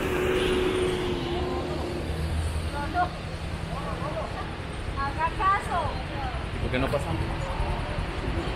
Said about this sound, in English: And here's more traffic.